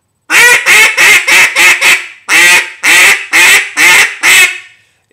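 A fluorescent green MVP duck call is blown very loudly in a quick descending series of six quacks, a pause, then five more drawn-out quacks, close and alone.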